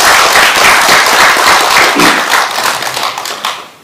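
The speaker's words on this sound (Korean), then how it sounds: "박수 부탁합니다." An audience at a political forum applauds as a speaker is introduced, a loud, close wash of many hands clapping that holds steady and then tapers off near the end.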